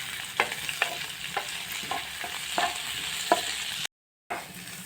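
Onion, garlic and ginger fry in a pan for mutton curry, a soft steady sizzle punctuated by repeated sharp scraping stirs, with a brief dropout near the end.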